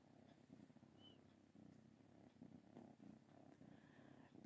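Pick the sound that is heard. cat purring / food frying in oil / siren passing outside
cat purring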